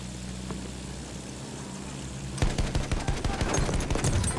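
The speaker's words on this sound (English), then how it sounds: "AA gun, there!" Anti-aircraft gun fire in Battlefield 1, a rapid, loud burst of repeated heavy shots that breaks in suddenly after a low, steady rumble and keeps hammering to the end.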